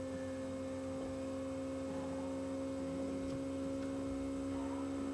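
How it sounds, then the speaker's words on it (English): A hair extension fusion heating gun hums steadily with a constant tonal drone while closing around and heating an unreal fiber fusion bond, with no talking. "Now what I'm doing is closing the gun and I'm just heating up the rest of the bond."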